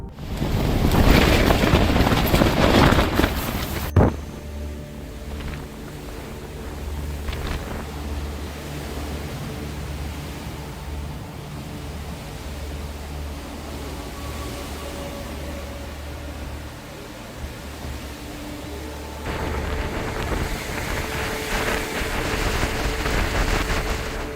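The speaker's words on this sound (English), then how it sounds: "The shelter shakes, and the sound of wind dominates the surroundings." Roaring storm wind buffets a camping shelter continuously, surging louder in strong gusts at the start and end, with low rumbling and flapping throughout.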